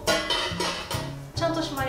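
Captain Stag nesting camp cookware, a 20 cm frying pan and 16 cm and 18 cm pots with an inset lid, is handled, making repeated close metallic clinks and clatters. A voice is heard alongside.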